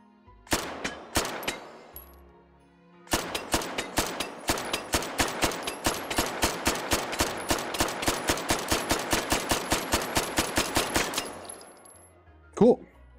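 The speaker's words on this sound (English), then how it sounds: "let's go shoot a couple of targets here" Semi-automatic 9x19mm pistol fire at targets in the VR shooter Hot Dogs, Horseshoes & Hand Grenades: a few quick shots, a pause, then a long rapid string of sharp, evenly spaced reports, ending in a short metallic clatter.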